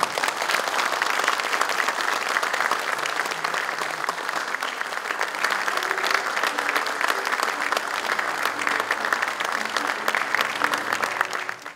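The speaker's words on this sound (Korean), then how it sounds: "큰 박수 부탁드립니다" Audience applause at Dongguk University's honorary doctorate ceremony in political science, a dense, sustained clapping from a large hall crowd that holds steady throughout with faint voices underneath.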